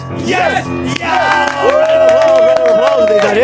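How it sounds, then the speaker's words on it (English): A talk-show studio audience cheers, whoops and shouts with some clapping mixed in, loud and close. Voices carry strong tones throughout the burst of excitement. "Round of applause, right there."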